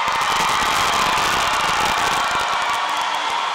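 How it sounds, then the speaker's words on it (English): Graduates and their families at a 2018 high school commencement give sustained applause, a dense, steady wash of clapping throughout with no pause. "Let's give them a round of applause."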